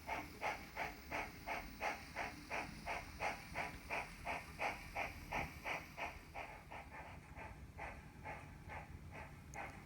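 A steam train running on a railway between mountain stations, with a steady rhythmic chuff of exhaust beats repeating about twice a second over a continuous hiss, moderately distant and fading slightly toward the end, no talking.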